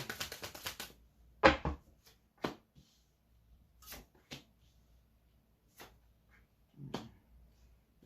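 Scattered soft clicks and riffles of tarot cards being handled and shuffled, a quick burst at the start then sparse taps, quiet and close.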